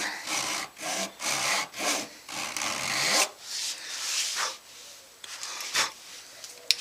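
A hand saw cuts fret slots into a multiscale multi-laminate guitar fretboard with steady, close back-and-forth rasping strokes, which slow into a few separate strokes toward the end.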